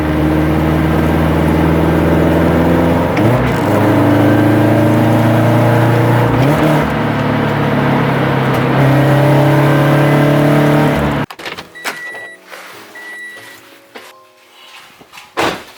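An FRS/BRZ engine tuned with an OpenFlash tablet holds a loud, steady launch-control rev with a droning, stuttering tone for about eleven seconds, then cuts off abruptly, leaving faint clicks and pops.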